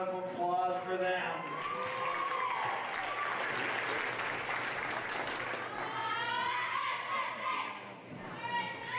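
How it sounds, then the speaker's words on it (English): Dense, sustained applause from the audience at a girls varsity basketball game fills the whole stretch, with an announcer's voice carrying over the clapping throughout. "Let's have one more round of applause for them."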